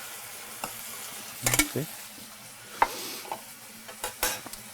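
Braised short ribs sizzling as they reheat in a thickened sauce, with a steady low frying hiss, scattered stirring clatters and scrapes, and one brief spoken word.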